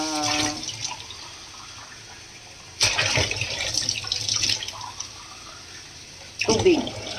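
Water poured into a pot of fish heads for paksiw, coming in two loud splashing bursts with a quieter stretch between them, near and clear, with a voice speaking briefly at the start.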